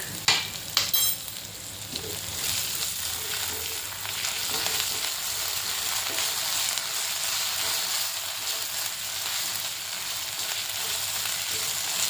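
Ginger garlic paste sizzles steadily in hot oil in a pan while kala chana usal is cooked, with a sharp crackling burst at the start as it goes in and then an even, loud frying hiss throughout.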